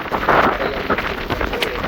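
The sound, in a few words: heavy rain falling with wind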